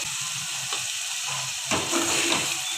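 A steady, hissing sizzle of tomatoes frying with spices in a pan, with stirring scrapes and a brief louder burst as the food is moved around, close and continuous.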